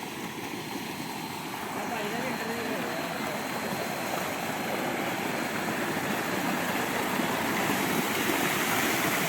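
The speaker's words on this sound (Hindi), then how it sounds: "आपको ट्यूबवेल भी दिखाते हैं।" Water gushes steadily from a running tubewell in the Cholistan desert, a dense, continuous rushing splash that stays loud and close throughout, with no clear talk over it.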